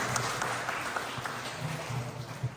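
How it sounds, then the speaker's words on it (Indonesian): A crowd at a Vesak festival talk show claps in a steady, moderately loud wash of applause, with individual hand claps standing out now and then. "Sekali lagi boleh kasih tepuk tangan semuanya"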